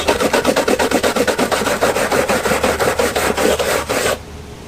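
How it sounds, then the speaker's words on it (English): A steel brush scrubs hard at paint on a Yamaha YZ450 motorcycle part, a loud close rhythmic back-and-forth rasp of about twenty quick strokes that stops abruptly. "Let's try a steel brush"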